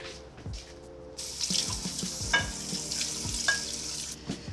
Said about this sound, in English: Just refresh it under cold running water now.